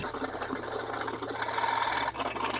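Egg whites and protein powder whisked together, heard as a fast, steady mechanical whirr like an electric whisk running continuously at close range, with no speech.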